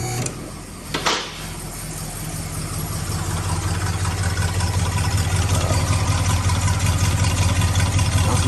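A 1968 Monaco with a 440 Magnum V8 idles steadily up close, a deep even rumble with a faint belt chirp, after a brief clunk near the start.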